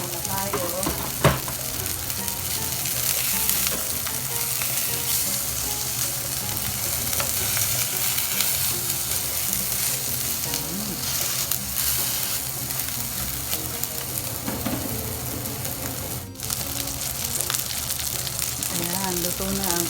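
Keto burger patty frying in a pan, a dense continuous sizzle and crackle with occasional stirring scrapes, close and steady throughout.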